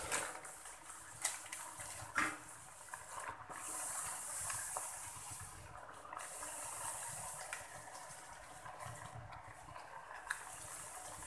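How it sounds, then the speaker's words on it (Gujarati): Puris deep-fry in hot oil for a farali meal, giving a constant soft sizzling hiss with small crackles and pops, moderately quiet and steady throughout, with no voices. "પૂરીને આપણે ગોલ્ડન બ્રાઉન થાય ત્યાં સુધી તળીશું."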